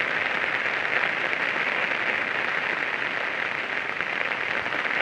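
Steady, dense roar of heavy rain in Chhingchhip, Mizoram, with water running along the road, continuous and even throughout with no talk.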